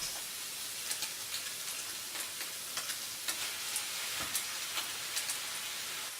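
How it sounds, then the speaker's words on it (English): Egg and tofu sizzle steadily in a hot pan, a soft crackling hiss with scattered pops and light stirring scrapes, no voices. "I've got my egg and my tofu sizzling away"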